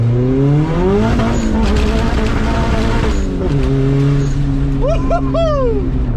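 A Honda Civic on NT01 tires accelerates hard up close, the engine note climbing through the gears with a brief shift drop, loud and sustained, and whooping voices briefly join near the end.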